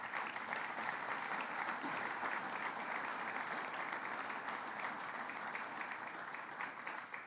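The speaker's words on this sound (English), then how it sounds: "So let's give yourselves a round of applause." Sustained applause from the crowd at a state announcement event for regional development projects, a dense, steady wash of clapping that holds evenly throughout without any voices.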